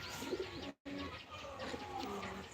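Pigeons coo softly and repeatedly at close range as they take flight, with a brief dropout partway through.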